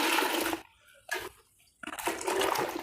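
Water sloshes as a linen shirt is rinsed by hand in a bucket: a splashy swirl, a pause, a short splash, another pause, then a longer churning slosh.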